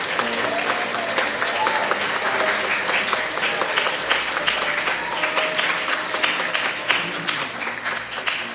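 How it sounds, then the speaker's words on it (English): Church congregation applauding honorees at a Sunday special honouree worship service: sustained, dense clapping filling the room steadily throughout, with faint musical tones beneath. "Let us offer a round of applause in celebration of these honorees."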